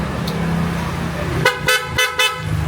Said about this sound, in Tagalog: Tapos yung busina, PIAA.